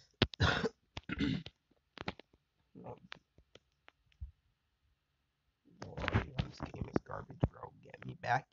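A sick streamer coughs in a few short, sharp bursts near the start, then goes quiet before talking resumes near and clear at the end.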